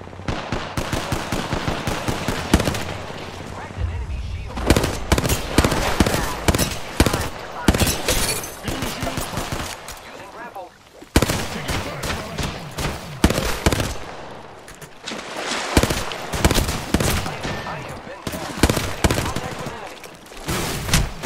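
Heavy, rapid gunfire from Apex Legends gameplay fills the whole stretch, with dense bursts and volleys close up, barely pausing, while a voice talks intermittently underneath.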